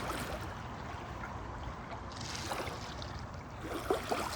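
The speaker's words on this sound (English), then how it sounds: "It's so nice because you have all these little waves of water coming up to you." Small waves lap on a sandy shore at night near the Port Orchard waterfront, a steady soft wash of water with a couple of slightly louder splashes near the end, nearby and fairly quiet.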